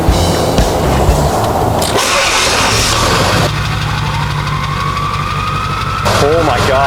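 Ford 7.3L Powerstroke diesel fitted with a new turbo cranks over and settles into a loud, close, rough idle with a steady knocking clatter, as people talk over it.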